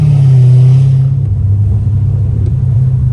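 A straight-piped Dodge Hellcat Redeye gives a loud, close, deep exhaust rumble as it is eased into acceleration in a suburban setting. The roar is strongest at first and then settles into a lower drone.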